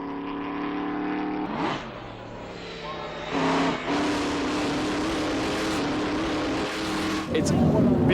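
A privately owned historic Alfa Romeo racing car at Goodwood runs its engine, a loud harmonic roar that changes pitch as it revs and accelerates, with a sharper burst near the end.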